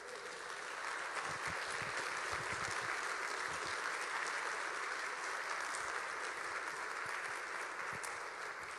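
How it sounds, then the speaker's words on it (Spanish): A church congregation claps together in steady, sustained applause, a dense wash of many hands filling the room at moderate distance and keeping an even level throughout. "Denle un aplauso al Señor."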